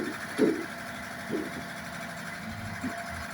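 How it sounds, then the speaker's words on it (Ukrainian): A tractor engine runs steadily at a low hum around 1,500 rpm while a mounted excavator attachment digs, with a few brief mechanical clunks and bursts from the attachment. "Оберти двигуна півтори тисячі"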